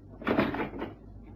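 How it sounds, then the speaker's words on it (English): A door swings shut in a quiet indoor room in a radio drama, giving a single short thud and brief rattle that stands close and alone. "Close the door."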